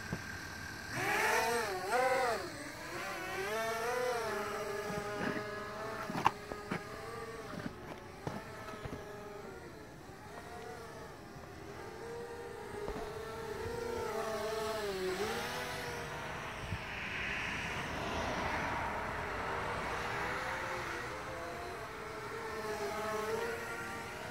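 A small 200QX quadcopter drone in flight, running on reduced motor power: a steady buzzing whine that rises and falls in pitch as it maneuvers, moderately near and continuous, with no talking.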